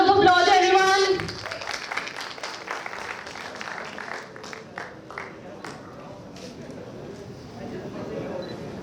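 An audience at a pharmaceutical conference award ceremony applauds a Best Academic Award winner, a thin patter of scattered claps under faint voices and camera clicks, fading and lingering at low level.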